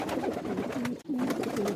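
Soft, throaty pigeon coos repeat in a steady rhythm, close and clear over faint background noise, with a brief pause midway.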